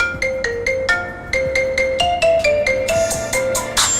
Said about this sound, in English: get yourself one of these cool ringtones